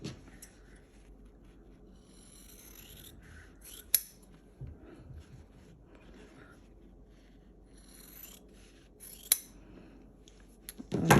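Scissors snip through quilt fabric while trimming a square-within-a-square quilt block, with quiet cloth rustling and a few sharp blade closes spaced across a calm, otherwise hushed stretch.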